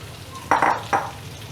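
Onions dropped into hot oil in a pan for kadai mushroom, giving a few quick bursts of sizzle and scraping close by, then a quieter hiss.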